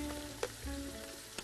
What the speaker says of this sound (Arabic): بحمر البصل